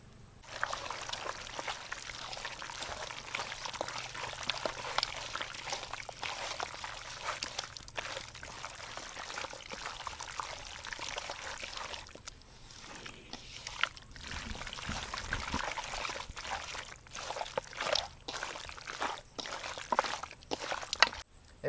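Mustard oil poured steadily into a bowl of mutton marinated with garlic and tomato paste for Baripada-style mudhi mansa, a continuous close liquid trickle and splash lasting throughout with slight unevenness.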